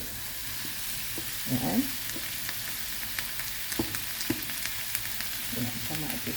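Tomatoes frying in a pan with leafy greens produce a continuous, fairly quiet sizzle with occasional sharp ticks and stirring clicks, and a voice speaks briefly over it.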